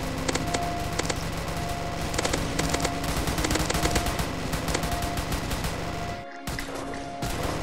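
Rapid automatic gunfire in the Roblox game Zombie Attack, a dense, continuous stream of shots with brief pauses, loud and close, fading out briefly near the end before resuming.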